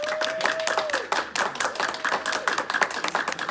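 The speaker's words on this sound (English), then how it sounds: "I want to say thanks to Kim McCurdy, Steve Upchurch, who did the decorations behind us. A round of applause" A small church congregation at a men's club Christmas program claps for the people who made the decorations, loose, uneven hand claps from a modest group, fairly close, with a faint tone drifting underneath.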